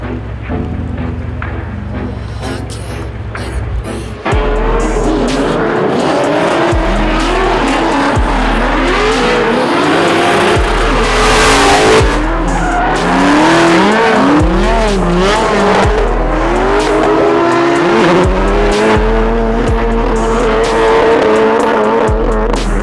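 A car engine revs hard with repeated rising and falling whines and tire squeals, loud and close, continuing steadily as the car drifts at a Grid Life event.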